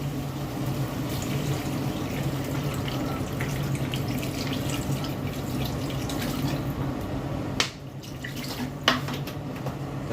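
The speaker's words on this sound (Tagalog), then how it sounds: "lagyan na natin ng tubig guys" Water pours steadily from a kitchen tap into a cooking pot for chicken tinola, a continuous close rushing stream with a couple of small knocks near the end.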